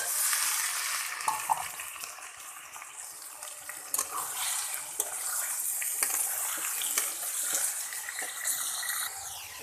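Beef pieces tipped onto browned onions in a hot pan, giving a steady, bright sizzle with frying crackle and occasional stirring scrapes, close and continuous throughout with no talk.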